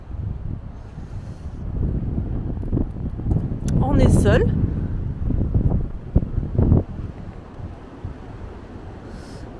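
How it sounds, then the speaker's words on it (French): Strong, cold wind buffets a picnic area in Big Bend National Park, roaring in gusts against the microphone and swelling near the middle, while a person talks briefly over it. "Le vent a soufflé toute la nuit, mais très très fort encore."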